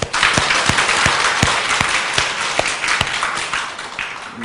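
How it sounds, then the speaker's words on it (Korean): A church congregation at a daytime revival meeting claps for themselves, broad crowd applause with a few sharp, regularly spaced claps standing out over the steady wash. "여러분 자신에게 박수 쳐봐요"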